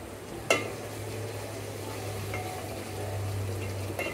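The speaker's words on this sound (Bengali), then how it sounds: "এখন একটু কষিয়ে নিব" Ginger garlic paste and spices are sautéed in a pan, making a soft, steady sizzle under a low hum, with a sharp utensil scrape near the start and light stirring knocks later.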